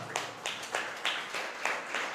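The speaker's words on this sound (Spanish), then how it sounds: "Dele un fuerte aplauso al Señor" A church congregation claps together in a steady, even rhythm of about three sharp claps per second, moderately near and fairly quiet, with no voices over it.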